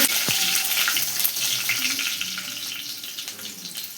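Mustard seeds and cut pepper fry in hot oil for a mutta thoran, giving a steady, close crackling sizzle with sharp pops and spits throughout, no voices.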